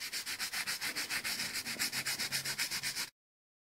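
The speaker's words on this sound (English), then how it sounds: "And now again rubbing the sheet with the kitchen scrub" A kitchen scrub rubs across a copper PCB sheet in fast, even back-and-forth strokes, about two dozen in three seconds, close and steady, then stops abruptly.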